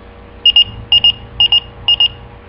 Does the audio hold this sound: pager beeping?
yes